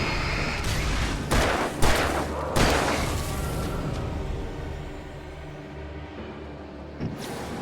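Shotgun and rifle blasts in the Alan Wake video game, a few heavy booms in the first three seconds that trail into a loud, rumbling wash of noise before one last shot near the end.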